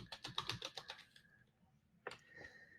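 Quick bursts of typing on a computer keyboard, a rapid run of close clicks, then a pause and a shorter second flurry, fairly quiet and heard alone.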